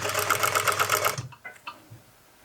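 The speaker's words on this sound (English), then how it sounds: "we're going to sew the side seams, and we're going to sew the center back seam from the double notch down to the bottom edge of the seam" A sewing machine stitches the side seams of a skirt, a fast rhythmic mechanical whirr of about a second that stops abruptly, followed by a few soft clicks and handling taps.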